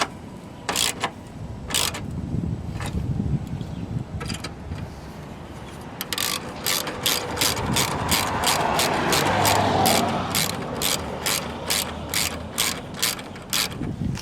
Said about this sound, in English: I'm just going to tighten these bolts down now.